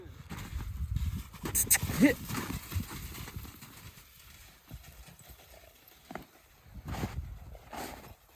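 Working mares walk with a soft, uneven clip-clop of hooves on ground, the steps fairly close, interspersed with faint outdoor background noise.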